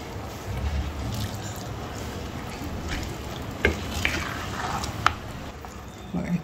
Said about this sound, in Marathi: ह्या भाज्या आणि ते मिक्स करून घ्यायचं